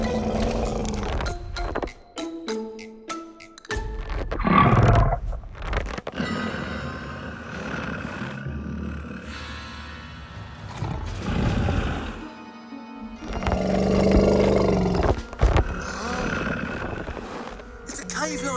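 A cave lion roars in a dinosaur adventure cartoon, loud growling bursts rising between and under animated talk and music.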